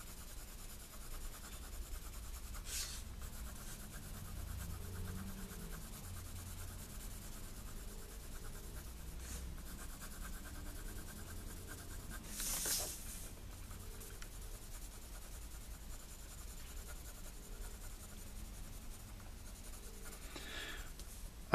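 A pencil shades on paper with soft, continuous scratchy strokes, quiet and close, with a few slightly sharper, louder strokes breaking the steady rubbing.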